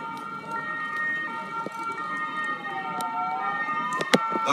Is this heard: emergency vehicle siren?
yes